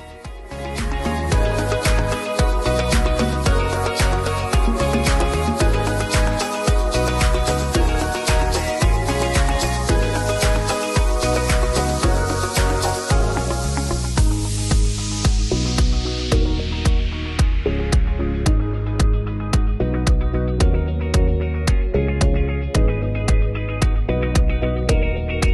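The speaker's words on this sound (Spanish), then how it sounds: "voy a echar en la sartén un buen chorreón de aceite y me voy a poner a pochar la cebolla" Onion poaches slowly in a generous splash of oil in a frying pan over low heat, giving a loud, continuous close-up sizzle full of fine crackles and pops that thins out toward the end.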